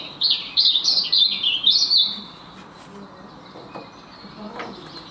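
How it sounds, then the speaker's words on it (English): A robin singing outside an office window, a bright, warbling phrase of quick notes up front, loud and clear, then fading into quieter background hiss with a few faint chirps. "That's the bird I recorded."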